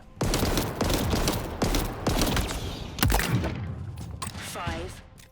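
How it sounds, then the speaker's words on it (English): Repeated bursts of electric-shock fire from the Disruptor pistol in Halo Infinite, loud and close, coming in quick irregular volleys with a sharper crackle near the end. "This pistol fires electric shocks that do damage over time."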